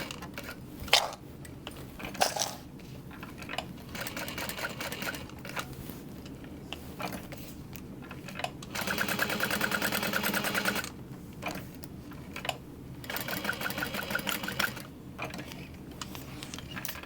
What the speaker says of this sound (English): And then fold that in half and top stitch all the way around.